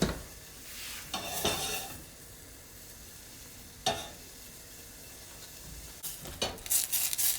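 Cream boiling in a pan while being stirred, soft bubbling and hissing interrupted by several scraping strokes of a utensil against the pan, quiet and close with no talk.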